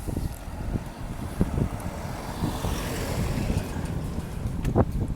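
Gusty wind rushes across the microphone at a beach in Şarköy, Turkey, with a faint wash of surf and scattered thumps underneath; no one speaks.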